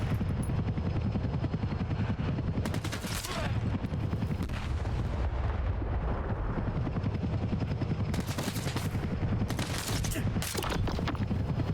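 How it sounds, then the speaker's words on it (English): Helicopter rotor drone in the video game Stalker 2, a steady low rumble passing overhead throughout, mixed with bursts of gunfire and loud impacts. "Sounds like a helicopter overhead."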